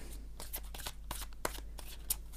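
A deck of oracle cards being shuffled by hand, a steady run of soft papery riffles and flicks with a few sharper snaps, close up and alone with no talk.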